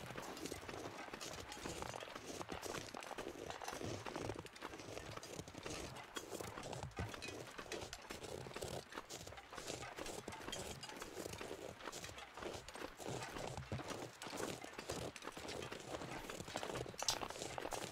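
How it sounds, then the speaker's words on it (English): Deer running in The Long Dark, a survival game set on Timberwolf Mountain, with a fast, quiet patter of hoofbeats continuing steadily in the distance against faint background noise. "Yes, this deer is going to help us out if she keeps running this way."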